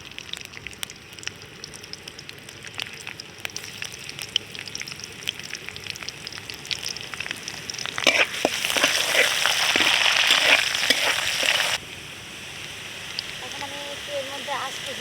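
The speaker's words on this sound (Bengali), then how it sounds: "পেঁয়াজ আর রসুন কাটা দিয়ে দেবো" Chopped onion and garlic fry in a pan in a village kitchen, with a steady crackling sizzle that swells loud for a few seconds and then settles to a quieter hiss.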